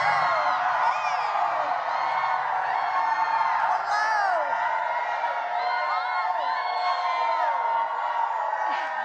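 A large rally crowd in Atlanta cheers, whoops and yells continuously at high volume, with shouts rising and falling throughout; an amplified voice speaks over the roar.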